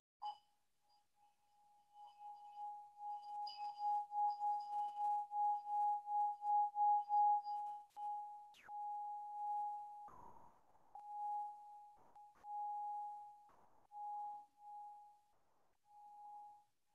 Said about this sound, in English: let me ring the story bell